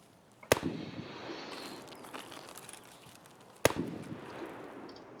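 Gunshots in the video game Escape From Tarkov, two sharp distant cracks about three seconds apart, each followed by a rolling echo tail over quiet outdoor ambience.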